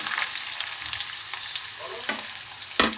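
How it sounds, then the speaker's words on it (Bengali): Chopped onion and green chili frying in hot oil in a wok, a steady crackling sizzle with a few scraping stirs and a sharp clack near the end. "কড়াতে তেল বসিয়ে দিয়েছি। এবার এর মধ্যে হচ্ছে পেঁয়াজ আর লঙ্কা কুচি দিয়ে দেবো"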